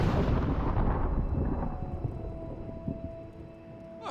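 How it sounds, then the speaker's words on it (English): Fireworks in the video game Dreamfall boom and rumble in a deep, heavy roll that fades over a few seconds, with a few fainter pops near the end and no talking. "Ah, fireworks. Fireworks?"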